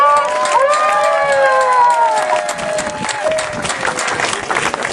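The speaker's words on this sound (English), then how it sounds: "let's give a clap for Daniel Smith, the great cheerleader there" A rally crowd opposing Bill 29 applauds and cheers for Daniel Smith, sustained clapping under excited shouts and whoops that carry loudly through the opening seconds before settling into continued clapping.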